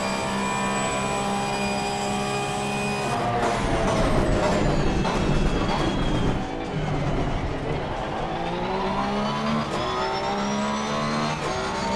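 A Porsche GT3R race car engine in Assetto Corsa Competizione screams loudly at full throttle, revs rising and falling through gear changes, with a sharp shift and brief dip midway before climbing again.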